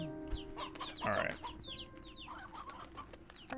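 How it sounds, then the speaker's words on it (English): Rooster clucking in the video game Slime Rancher 2: several short clucks and squawks with chirping birds, fairly quiet over a soft ambient background. "you can have another rooster"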